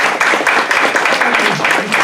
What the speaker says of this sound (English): if you want to give him a round of applause